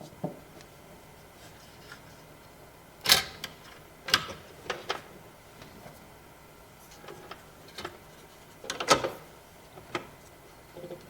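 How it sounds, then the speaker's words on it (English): A small stubby screwdriver drives screws through a plastic bracket into the bottom of a PC case, making scattered close ratcheting clicks and sharp ticks in short bursts with quiet gaps and no speech. "screw this plastic bracket down to the bottom of the case. So anyway, I got myself a little stubby screwdriver."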